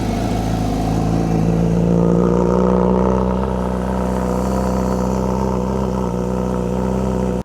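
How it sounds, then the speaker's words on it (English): A Honda CBR1000RR-R SP superbike on its standard Akrapovic exhaust idles after a cold start, a loud, steady, close engine burble with a slightly raised fast idle throughout. "let's have a cold start on the standard Akrapovic exhaust on this bike"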